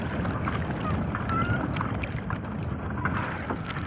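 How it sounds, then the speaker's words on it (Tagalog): Steady, heavy wind noise buffets the microphone throughout on a fishing boat at sea, a continuous roar with faint splashing of water beneath it. "Lakas ng hangin."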